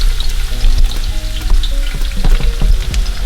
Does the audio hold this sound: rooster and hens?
no